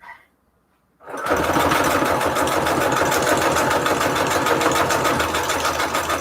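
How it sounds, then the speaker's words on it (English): After a brief quiet moment, a sewing machine starts and runs a rapid, continuous straight stitch at 3.5 length through paper, sewing a vocabulary word on with a steady, close mechanical chatter. "I'm just going to go ahead and sew it on top"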